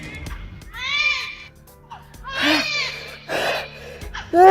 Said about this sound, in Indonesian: Ini gimana suara bayi itu?